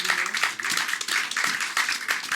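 Church congregation clapping in rhythm at a service, sharp handclaps in a steady beat, close and fairly loud, with faint voices mixed underneath.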